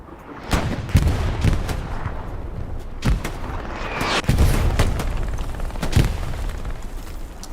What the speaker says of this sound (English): Just listen for the gunfire.